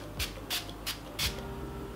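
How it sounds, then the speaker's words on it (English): Facial mist sprayed over a face in four quick, close hissing bursts, spaced about a third of a second apart, with no talk. "that was a nice spray"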